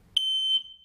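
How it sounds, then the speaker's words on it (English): Smoke alarm emitting a single sharp, piercing electronic beep of under half a second, loud and close, with no other sound around it. "do you have an ionization smoke alarm or a photoelectric smoke alarm?"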